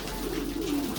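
Pigeons coo steadily at close range during feeding, a low throaty rolling call that carries on throughout without pause.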